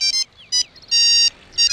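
A mobile phone ringing in a Bhojpuri movie scene, with a loud electronic ringtone repeating in short chiming bursts and one longer burst, alone and up close.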